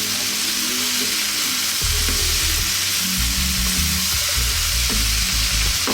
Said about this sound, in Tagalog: Lalagyan na natin yung ating upo. Haluin lang natin sandali.